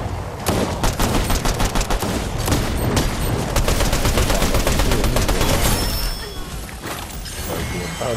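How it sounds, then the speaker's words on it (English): Dense, sustained bursts of automatic and single gunfire in a Fortnite match, many rapid sharp cracks layered loudly over continuous game noise throughout. "I see people over here shooting. I see people over there shooting."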